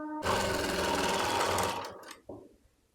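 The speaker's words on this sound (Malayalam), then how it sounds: "ഇതേപോലെ മുകൾ കൂടെ ആദ്യം പതിച്ച് സ്റ്റിച്ച് കൊടുക്കുക" A sewing machine runs fast while stitching a baby frock, a loud, continuous mechanical whirr lasting nearly two seconds before it slows and stops, followed by a brief click.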